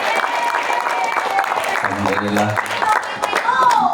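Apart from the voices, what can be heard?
audience applause for the women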